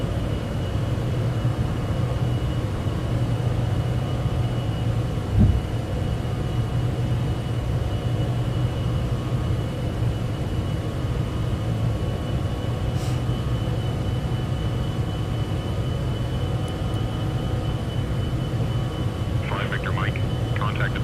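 Citation X business jet climbing after takeoff with gear up in Microsoft Flight Simulator 2024, a steady loud engine drone with a faint click or two, alone throughout.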